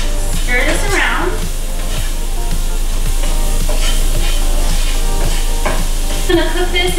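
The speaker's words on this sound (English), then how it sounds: "Go ahead and stir this around." Shallots stirred with salt, pepper, rosemary, sage and nutmeg in a pot over medium heat, giving a steady close sizzle with repeated utensil scrapes, no talking.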